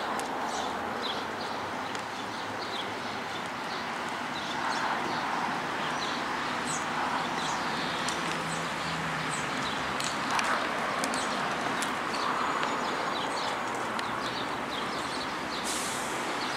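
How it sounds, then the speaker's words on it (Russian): Birds sing and chirp outdoors on a walk, their short calls repeating at moderate distance over a steady background of street ambience and soft rustling, with no one talking. "Птицы как поют."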